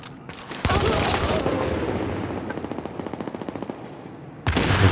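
In the video game The Division, a gun turret fires a long, rapid burst of close, loud shots. The steady rattle thins into distinct pulses before a short break, then another burst begins.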